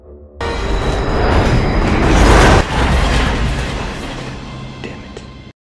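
A train roars past at close range, a loud continuous rushing rumble that swells to a peak, then fades slightly before cutting off.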